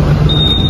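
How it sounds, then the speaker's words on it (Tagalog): A Honda Giorno scooter's alarm emits a steady high electronic tone, near and fairly loud, over a low engine-like rumble. "May alarm na po yan."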